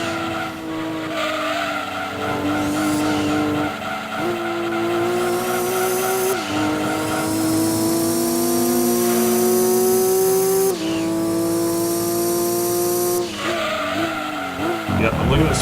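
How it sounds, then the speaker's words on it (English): A race car engine in Gran Turismo 2 screams at full throttle, its pitch climbing through each gear then dropping at every shift, with tire squeal layered in and someone talking over it. "Speed on third, we can floor it."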